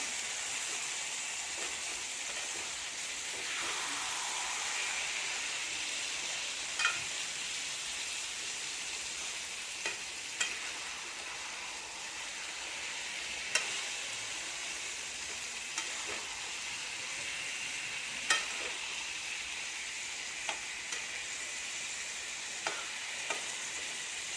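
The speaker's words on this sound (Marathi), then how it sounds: "आता आपण त्याच्यामध्ये शिजवून घेतलेले काबुले चणे टाकतोय मिक्स करून घेते" Cooked chickpeas being mixed into frying masala in a pan give a continuous sizzle and hiss, broken by occasional scrapes and taps of the stirring spoon.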